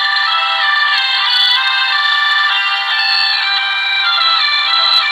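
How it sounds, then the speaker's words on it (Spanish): A hurdy-gurdy, a wheel fiddle played by turning its crank, gives a steady, bright, reedy drone with sustained melody notes over about five seconds, moderately loud and without speech. "Mirá cómo funciona el arca de rueda, ¿ves? Tiene una manijita. Gira con la manija"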